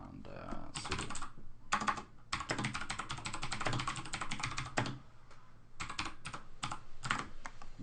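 Rapid keystrokes on a computer keyboard entering a sudo command in Linux, close and clear, in several bursts separated by short pauses.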